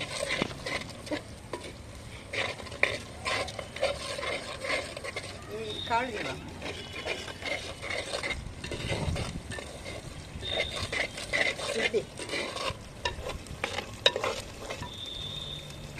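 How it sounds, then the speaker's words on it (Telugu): Onions, ginger-garlic paste and turmeric fry in a pan over a wood-fired stove while being stirred, giving a steady sizzle with scraping and clinking from the stirring. A voice talks over it now and then. "పసుపు కూడా వేసి ఈ అల్లం వెల్లి పేస్టు ఈ ఉల్లిపాయలు మొత్తం ఇలా వేయించుకున్నాను"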